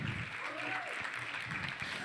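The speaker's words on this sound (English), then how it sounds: "Please a round of applause for her." Applause from an audience, a dense steady patter of clapping that fills the whole stretch at moderate volume.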